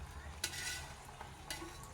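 Tempering spices crackle softly in hot oil for dhokla, a quiet, continuous sizzle broken by a few brief scraping stirs nearby.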